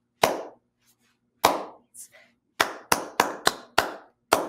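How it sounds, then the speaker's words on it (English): Hands clap a rhythm in a classroom music activity: sharp isolated claps, two spaced beats then a quicker run of six, each crisp and close, with a faint voice between. "Have the soloists clap the rhythm of the words."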